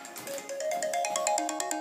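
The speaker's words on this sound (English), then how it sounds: "By that, I got a phone call." A phone ringtone plays a bright, repeating electronic melody for an incoming call, steady and clear with nothing else over it.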